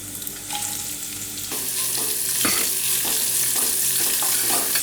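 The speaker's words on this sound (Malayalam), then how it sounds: "ഇനി ഇതിലേക്ക് അരിഞ്ഞു വെച്ചിരിക്കുന്ന സവോള അത് നമുക്ക് ചേർത്ത് കൊടുക്കാം." Chopped onion sautés in a pan for mutton liver fry, a close, loud, continuous sizzle that jumps up as the onion goes in, with repeated stirring scrapes and no voices.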